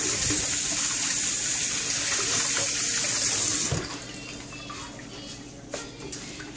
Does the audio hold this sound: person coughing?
no